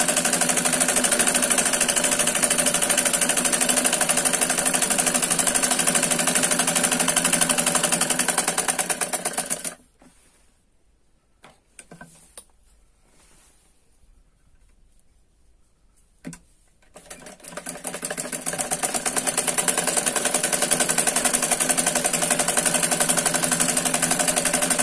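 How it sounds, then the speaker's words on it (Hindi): A sewing machine runs loud and steady while stitching along the edges of Patiala salwar fabric, stops for several seconds, then resumes the same continuous whirring run. No talking. "पहले किनारे किनारे सिलाई कर लेंगे।"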